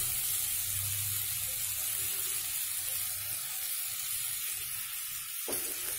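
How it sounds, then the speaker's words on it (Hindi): Cumin powder and chilli powder go into hot oil, giving a steady, hissing sizzle at close range that continues unbroken, with a faint low hum underneath and a brief dip just before the end. "अब हम इसमें जीरा पाउडर और मिर्ची पाउडर डाल देंगे"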